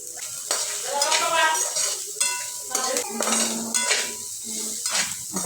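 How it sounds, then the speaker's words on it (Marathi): Onion with salt and fresh coriander roasts in a pan, a steady sizzle under frequent metal spoon scrapes and clinks against the pan as it is stirred up close. "आता व्यवस्थित भाजून घेऊ कांदा"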